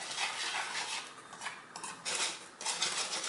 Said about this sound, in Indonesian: Nah, ini kita aduk.